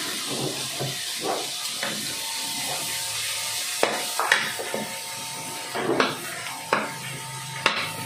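Chopped onion and tomato hit a hot pan and are stirred together while cooking Kapampangan-style pork kilawin, giving a steady sizzling hiss with scattered utensil scrapes and clinks against the pan.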